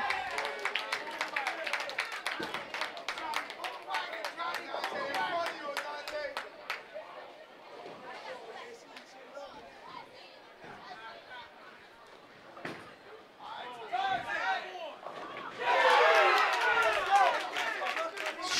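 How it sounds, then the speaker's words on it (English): A crowd at a bowling center championship cheers and claps loudly after a shot, bursts of clapping and shouts that fade into murmur and then surge again, with voices talking throughout. "Crowd goes nuts."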